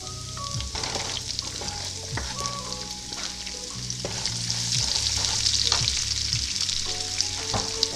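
Onions sizzle and fry in a hot pan for an Indian dal tadka, a steady crackling hiss with occasional stirring scrapes, close and continuous with no voices.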